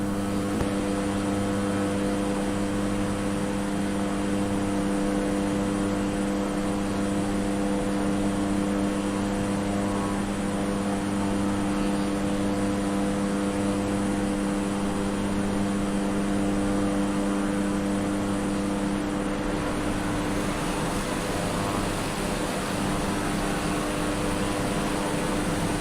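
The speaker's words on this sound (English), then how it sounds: "Cleared for takeoff runway 16" An airplane powers up for takeoff on runway 16, a loud, steady engine drone with strong tonal hum that holds for over twenty seconds and shifts slightly near the end.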